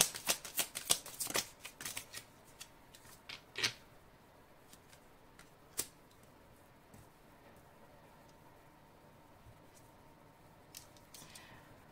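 A deck of oracle cards is shuffled close up, with quick riffling flutters and snaps bunched at the start, then sparse soft card taps and slides over a quiet room, with no talking.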